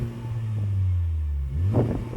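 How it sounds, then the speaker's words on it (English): A Honda Civic Type R engine revs up against its soft limiter, a steady held drone with the pitch bouncing at the cut, then a sharp rise as it revs again, close and alone. "Oh, soft limiter on the Civic."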